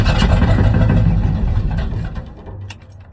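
A 1979 Chevrolet C30 truck engine with a weak starter cranks and fires on a rigged gas can, a loud chugging rumble that sputters and fades toward the end.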